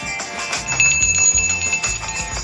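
A bright chime rings out several times in quick succession, the clear tones of a notification bell sound effect.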